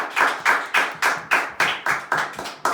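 A church congregation claps for the Lord in a steady rhythm, about ten sharp, evenly spaced claps, close and fairly loud with no talking.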